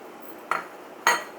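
A lid is set onto a cooking pot of aloo baingan in a home kitchen, giving two short metallic clinks about half a second apart, close and fairly light, against a quiet background.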